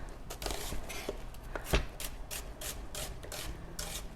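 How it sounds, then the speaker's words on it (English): Knife julienne-cutting an onion for panzanella on a cutting board, a run of quick, uneven chopping taps with one sharper knock midway, close and fairly quiet, no talking. "I'm just going to julienne or French cut."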